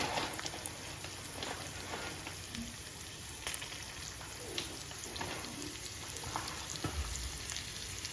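Dry shrimp and small onions fry in hot oil for a chammanthi, giving a steady, faint crackling sizzle with occasional light stirring clicks and no voices.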